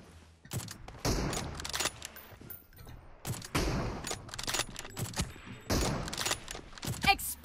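Bursts of gunfire in a Turkish team-deathmatch shooter match with an M4, several sharp volleys spread across the clip, loud and close, mixed with game noise and someone talking over it.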